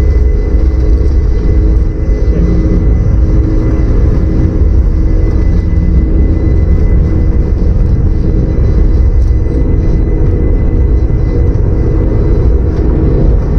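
Airliner jet engines at takeoff thrust during the takeoff roll, a loud, steady, heavy roar with deep rumble held constant throughout, no talk heard over it.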